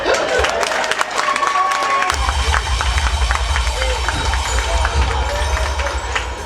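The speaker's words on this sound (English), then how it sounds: "A round of applause for her." A crowd claps and cheers steadily for several seconds, the applause dense and continuous with a low rumbling undertone throughout.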